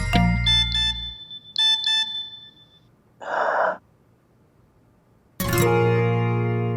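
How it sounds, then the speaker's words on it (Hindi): A phone notification chime plays twice as short bright tonal pings, followed by a breathy hiss and then a louder sustained tone, all standing out clearly against near silence with no one talking. "सारा का नोटिफिकेशन"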